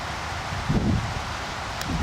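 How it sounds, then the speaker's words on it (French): Strong wind blows across an open molehill-dotted field in Bizanos, a continuous low rumble of gusts buffeting the microphone with faint rustling, close and without talk. "car il y a beaucoup de vent"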